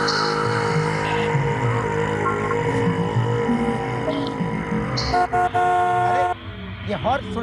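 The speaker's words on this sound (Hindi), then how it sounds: "अरे, ये हॉर्न सुनाई नहीं दे रहा क्या?" Car horn toots and honks on a street where a stalled car blocks the way, heard in a TV drama scene over people talking and background sound.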